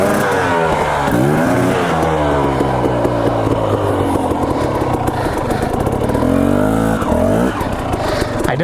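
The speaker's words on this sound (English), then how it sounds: "I didn't want to spin it up, but I just did." Dirt bike engine revving hard on a Boise River single track in Idaho, the rear tire spinning out; a loud, close, continuous wavering roar with rising and falling pitch sweeps throughout.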